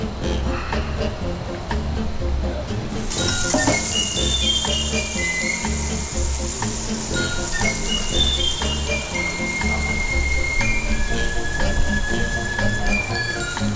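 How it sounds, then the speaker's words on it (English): Water runs and splashes steadily throughout, with a bright hiss that swells after the first few seconds and thin whistling tones drifting over it. "this is the sound of water."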